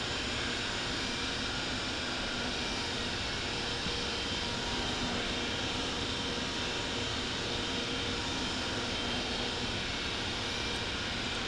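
Steady broadband engine roar of an Emirates Boeing 777-300ER taxiing to a gate at Dubai in the Infinite Flight simulator, a constant moderate hum and hiss with no voices.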